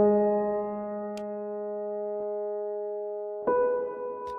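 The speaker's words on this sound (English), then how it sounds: "just compressing the reverb tail of the piano" Sustained piano chord drenched in heavily compressed, saturated reverb for ambient future garage music, a dense, steady wash of tone that swells again near the end as a new chord enters.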